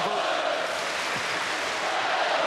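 A large basketball crowd in the Indiana Hoosiers' home arena roars in a steady, dense wash of cheering during a game against Purdue, with a commentator's voice faint underneath.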